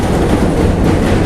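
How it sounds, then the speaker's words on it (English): A passing train roars loudly and continuously, a dense broadband rumble that fills the whole stretch with no voices over it. "These trains are loud."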